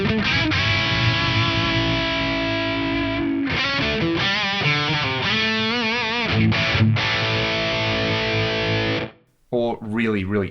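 Electric guitar played through a Sansamp PSA-1 preamp with the low end turned down, giving a thin, tinny, distorted tone; sustained chords and riffs ring out loud and steady, pausing briefly near the end.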